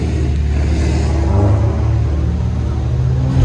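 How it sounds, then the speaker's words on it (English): A 2012 Chevrolet Camaro RS V6 fitted with an MBRP cat-back exhaust, running with a loud, deep, steady drone that swells slightly near the end. "Nice thing about the MBRP system is you hear it when you give it gas."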